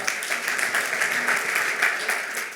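An audience at a green startup pitch event bursts into warm, sustained applause, a dense wash of many hands clapping close and loud for a couple of seconds.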